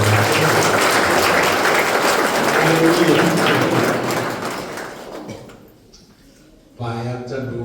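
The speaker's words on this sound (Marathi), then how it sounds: "आपण टाळ्या वाजवू." A church congregation claps together in dense, loud applause that continues for about five seconds, then fades away before a voice resumes.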